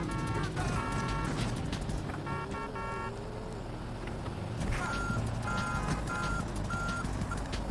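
Repeated electronic vehicle reversing beeps in short bursts in Grand Theft Auto, over a low engine rumble, with a pause midway before the beeping resumes.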